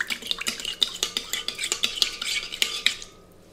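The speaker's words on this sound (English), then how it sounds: "Stir" Sugar and yeast are stirred into warm milk in a mixing bowl, a quick, even run of utensil taps and scrapes against the bowl that stops just before the end.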